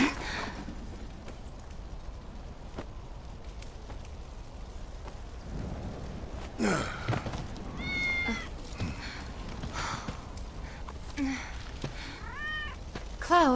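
A cat in Final Fantasy VII Remake meows several times, short rising and falling cries over steady rain-like ambience, close and clear near the end.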